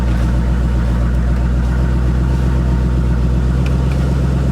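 A car engine idles steadily after being started, a loud, continuous low rumble close by with no talking.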